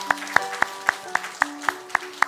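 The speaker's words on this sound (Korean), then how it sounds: "정근석 장로님, 강대분 권사님 박수 한번 하겠습니다." A church congregation at a Sunday worship service claps in a steady, fairly even rhythm, about nine sharp claps in quick succession, moderately loud and close, with a faint tonal hum underneath.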